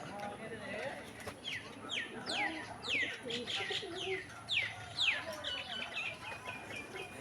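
Rajshahi roller pigeons tumbling in flight make a run of sharp, repeated bright whistling sweeps from the wings, about six in a row, over a busy outdoor background of coos, clucks and other birds.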